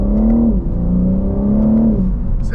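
A BMW M3 accelerates hard, its engine note climbing, dropping briefly at a quick gear shift, then rising again, loud and close with no talking over it.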